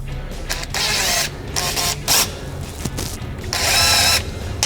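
A grease gun pumps grease into a grease point on OPUS machinery, heard as several short, close, whirring and hissing bursts separated by brief pauses, with no talk.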